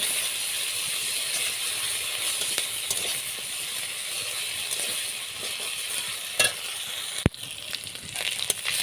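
Onion paste with garlic paste and spices sizzling in a pan for a Bengali potol and potato curry, a steady frying hiss broken by a few faint scrapes and a sharp clack near the end.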